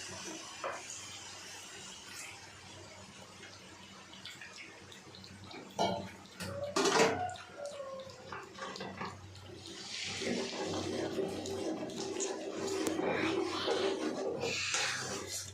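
Soft clinks and handling noises, then water pours and splashes steadily into a cooking pot of mutton, close by and growing fuller.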